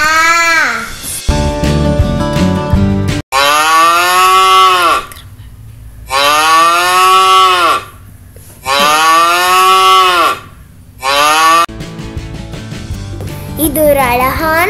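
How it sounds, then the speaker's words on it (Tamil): A cow moos loudly and close, with several long, drawn-out lowing calls separated by short pauses and busy background noise at the start and end. "பசு என்ன சொல்லும்? மூ மூ மூ மூ மூ."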